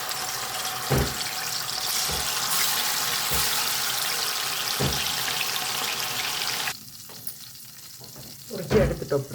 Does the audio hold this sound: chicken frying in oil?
yes